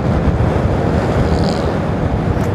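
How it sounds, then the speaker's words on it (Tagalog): Strong cold December wind battering the microphone outdoors, a loud continuous roar and rumble with gusty buffeting throughout and no talk. "Malamig ang panahon. December na kasi. Ramdam mo talaga sa hangin pag mag-December. December na. Oh, grabe. Lakas ng hangin."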